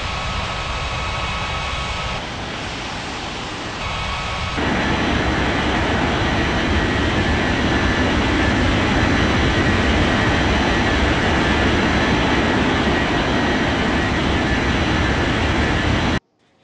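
A Vietnam Airlines jet takes off from runway 09, its engines a steady, loud broadband roar that swells after a few seconds and holds strong until it cuts off abruptly.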